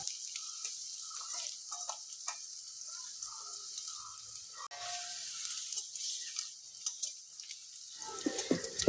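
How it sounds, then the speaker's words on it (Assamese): Onions frying in a pan while they slowly brown, a faint, steady hiss of sizzling with small bubbling flickers throughout. "আৰু পিঁয়াজখিনি এতিয়া ভাজি আছোঁ, অলপ কালাৰ হ'বলৈ দিম।"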